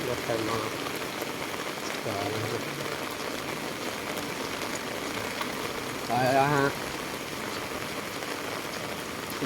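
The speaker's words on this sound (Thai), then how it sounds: "เดินตากฝน" Steady hiss of rain falling on surfaces while someone walks through it, broadband and continuous, with a brief louder patch of patter midway and faint background noise throughout.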